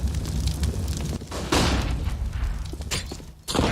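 A grenade bursts in a Counter-Strike match, a loud near boom with a rumbling crackle that carries on through the clip, followed by another sharp blast near the end.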